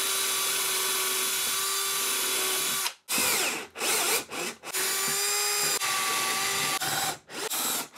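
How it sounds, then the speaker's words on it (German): A power drill bores a pilot hole for a screw into a wooden rib while building a router table, a loud steady whine broken by several short pauses and restarts, with no talking. "Dann bohre ich die Bohrung für die Schraube vor."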